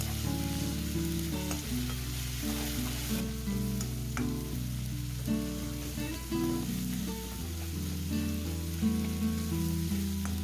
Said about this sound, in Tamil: இதை நல்லா வதக்கி விட்டு இந்த தக்காளி வந்து கொஞ்சம் நல்லா கரைஞ்சி வதங்கி வரட்டும்